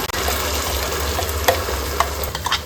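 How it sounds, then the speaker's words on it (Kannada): Ground masala paste with garlic for a fish curry fries in a pan, a loud, close, continuous sizzle with several sharp spatula scrapes and taps as it is stirred, and no talking. "ಮಸಾಲೆ ಚೆನ್ನಾಗಿ ಫ್ರೈ ಆಗಬೇಕು"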